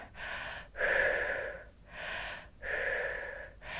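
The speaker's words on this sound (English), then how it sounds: "Keep breathing." Heavy rhythmic breathing during a low-impact cardio workout, several long audible breaths in and out, close and fairly loud with short gaps between them and no talk.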